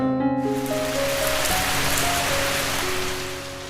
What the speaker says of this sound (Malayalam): കോരിച്ചൊരിയുന്ന മഴ